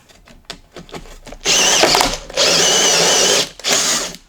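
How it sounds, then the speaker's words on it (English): A drill bit bores through a wooden board, the hole drifting off course. Short taps and starts give way to three loud, sustained bursts of whining cutting, close up and with no talking. "This is not the ideal type of drill bit to use for this because it's not staying on course, but now we should be able to cut all the way through"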